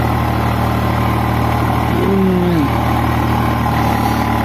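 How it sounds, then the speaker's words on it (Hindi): Swaraj 735 FE tractor pulling a reversible plough through wet black soil in a drip-irrigated field in Jabalpur, Madhya Pradesh, its engine a loud, steady, close drone with a brief rise in pitch partway through. "सावरा 735 FEE रिवर्सिबल प्लाव चलाते हुए काली मिट्टी में स्लिप करता हुआ ट्रैक्टर"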